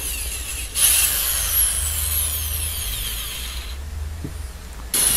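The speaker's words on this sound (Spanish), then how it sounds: "Abrimos un primer orificio guía." A power drill bores a pilot hole into a cut floor-lamp base at a center-punched mark, giving a high, whining motor hum under grinding noise for about four seconds between brief pauses, with no voices.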